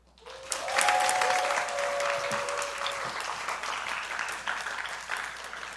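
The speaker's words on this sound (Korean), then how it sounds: "한 100배 정도 큰 박수와 함성으로 여러분 선교사님을 맞아주시면 감사하겠습니다" A church audience at a Sunday worship service applauds and cheers to welcome a missionary preacher to the pulpit. The applause is loud, dense and sustained, rising quickly and holding steady throughout.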